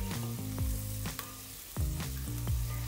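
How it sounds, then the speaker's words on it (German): Diced onion sweating in butter in a pot gives a steady, close sizzle, broken by a few clinks and scrapes of stirring. "Dann kommt eine gewürfelte Zwiebel hinein und wird angeschwitzt."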